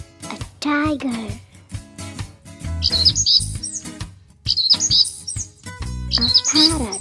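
A parrot chirps in three short bright bursts over a children's animal song, with a voice heard near the start and music continuing underneath.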